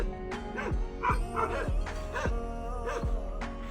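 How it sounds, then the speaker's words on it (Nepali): Two village dogs bark repeatedly near a cattle shed, sharp close yips and bow-wows in an uneven rhythm, several barks over a few seconds with a faint voice in the background. "कुकुरहरू भुकिरहेछ।"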